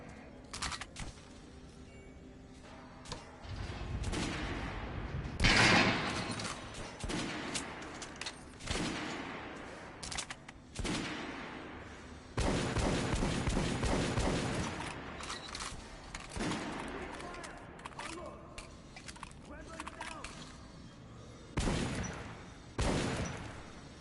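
Volley of gunfire loosed on a shouted order to fire, a series of sharp loud cracking bursts spread over the span, some clustered and overlapping, with short gaps of quieter ground noise between them.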